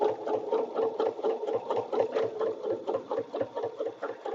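A sewing machine stitches a Christmas-themed edge-to-edge quilting motif, running continuously with a fast, even mechanical chatter close up.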